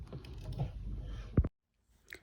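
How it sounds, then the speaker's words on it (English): A sewing machine joining crochet granny squares for an off-the-shoulder top runs in a steady, close mechanical whir with a rapid rattle for over a second, then stops abruptly, followed by a brief faint tap. "So I am using a sewing machine to attach both the granny squares together"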